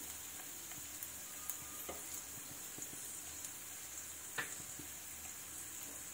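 Hot oil with mustard seeds sizzling after asafoetida is added while making instant radish pickle, a steady faint hiss with occasional small pops.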